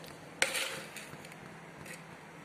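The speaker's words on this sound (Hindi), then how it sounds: "4 लोगों की चाय के लिए 8 चम्मच हम ये डालेंगे व्हाइट शुगर" A spoon sets white sugar into a pot while tea is made at home, giving one sharp metallic clink followed by a few faint taps and scrapes in a quiet room.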